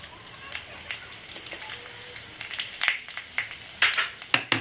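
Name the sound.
panch phoron and bay leaf sizzling in hot oil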